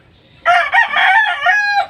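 A rooster perched in a roomy tin-roofed coop with a long wooden climbing pole lets out a single loud, close crow lasting under two seconds, alone without talk.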